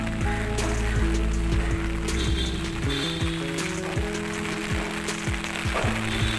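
Rain falls steadily on green garden plants, a dense close patter with scattered drips and a faint underlying hum, continuous throughout.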